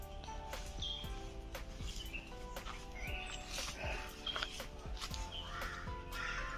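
Repeated crow caws ring out over steady outdoor background noise near clear water, with occasional other bird calls and faint distant voices, in Uthai Thani, Thailand.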